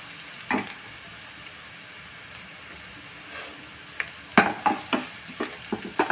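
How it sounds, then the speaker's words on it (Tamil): Grated coconut frying with cooked fish in a pan for fish podimas, a soft hiss with scattered crackles and a few scraping stirs that grow busier toward the end. "தேங்காவும் கொஞ்சம் நல்லா வதக்கிக்கிறட்டும்."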